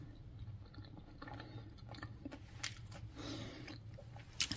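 Quiet close chewing of a salad made from leftovers with meat, potato, pickled cucumber and mayonnaise, soft repeated crunching and squishing bites at low volume with no talk.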